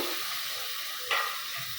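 Gulivindalu fish dropped into a hot pan send up a steady bright sizzle with a brief louder hiss as they hit the oil, close and alone.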